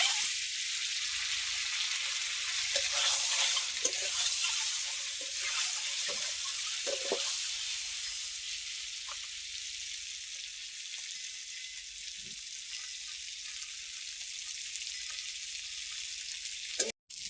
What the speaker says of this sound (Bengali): তো আমি ডিম কাটা ভেজে নেব, তেল গরম হয়ে গেছে।